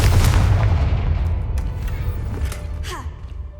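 The Confringo explosive spell in Hogwarts Legacy lands as a loud, close boom that fades into a rumbling tail, followed by a faint whoosh.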